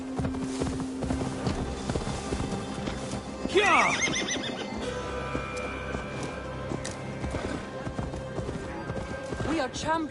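In Assassin's Creed Valhalla, a horse whinnies loudly partway through while hooves clip-clop rhythmically, set against game music and ambient sound, with a voice speaking briefly.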